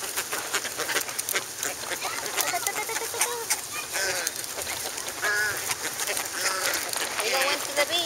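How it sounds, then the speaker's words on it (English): Black swans give repeated nasal, trumpeting honks close by, the calls rising and falling over a steady murmur of background voices. "the swan is making the noise"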